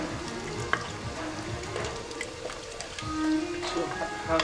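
Chicken fries for stroganoff in a pan, salted and stirred, giving a steady low sizzle with scraping stirs that swell toward the end; a voice talks faintly over it.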